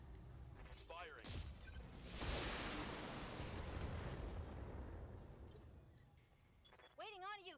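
Heavy mech weapons firing in the BattleTech video game, a loud roaring blast that swells and slowly decays over several seconds, with radio-style voices and electronic beeps before and after.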